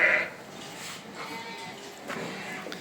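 A sheep bleats once, close and fairly loud, at the very start in a livestock pen holding Van white sheep and sacrificial sheep, then quieter pen rustle and faint movement follow.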